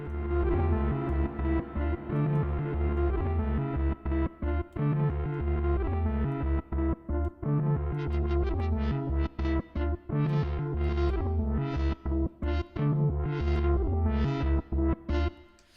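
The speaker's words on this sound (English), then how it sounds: "create some more soundscapes by adding some filtering and maybe even throwing a reverb as an insert here" An audio loop in Ableton Live run through filtering and reverb, its top end filtered away; a dense, distorted, echoing texture plays continuously with rhythmic gaps, brightening in repeated swells toward the end.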